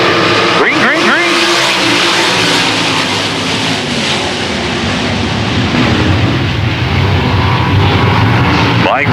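Pack of short-track race cars roaring off at the green flag, engines loud and continuous across the whole stretch with rising revs at the start, a commentator talking over the noise.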